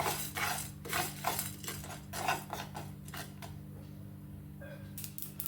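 White mustard seeds are dry toasted in a pan for mutton vindaloo, with repeated light scraping and clinking of a utensil against metal over a steady low hum, close and moderately quiet.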